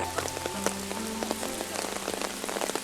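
Rain falling steadily, with a dense patter of raindrops striking surfaces close by and a faint low hum running beneath the continuous wash.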